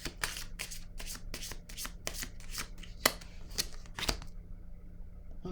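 Tarot cards are shuffled by hand for a card reading in a run of crisp, rhythmic riffles and slaps of roughly a dozen strokes, close and clear over a faint steady hum, ending in quiet.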